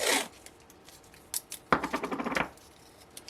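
Special purple tape pulled off the roll at a crafting table beside a die cutter, heard as a short rip at the start, a few small clicks, then a longer ratcheting tear of about three quarters of a second, close and fairly quiet, with no talking.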